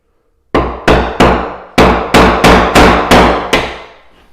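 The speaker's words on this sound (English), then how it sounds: "so let's just go ahead and make that other hole and screw this in." Eight sharp hammer blows ring out close and loud in an uneven rhythm while a hole is made in a textured wall to mount a vanity light, each strike decaying quickly.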